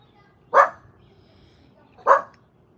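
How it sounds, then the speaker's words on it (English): Dog barking indoors, two sharp loud single barks spaced about a second and a half apart, close by against a quiet background. "My dog Lily"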